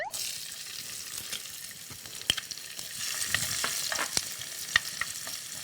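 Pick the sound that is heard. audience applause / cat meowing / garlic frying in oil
garlic frying in oil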